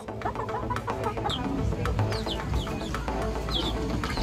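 Chickens cluck and squawk nearby from coops beside a denture workshop, several birds calling in scattered bursts over a low background murmur.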